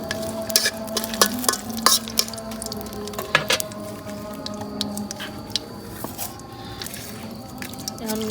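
Dry chillies and bay leaves crackling in hot oil in a wok, with a close, steady sizzle broken by sharp pops and stirring clatter at an irregular rhythm.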